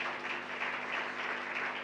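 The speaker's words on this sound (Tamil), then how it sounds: "கைத்தட்டி அவங்களை உற்சாகப்படுத்தும்." Steady applause from a gathered audience greeting a gift presentation at a New Year event, a dense, even wash of clapping held at constant loudness throughout.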